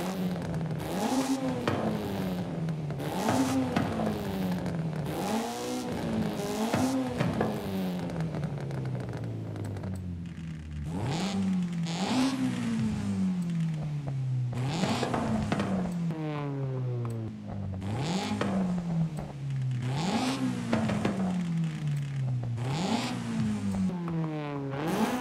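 A Honda car engine fitted with a race exhaust in Forza Horizon 5, naturally aspirated, revving hard through repeated rising sweeps and gear shifts with a raspy, loud, close tone across the whole stretch.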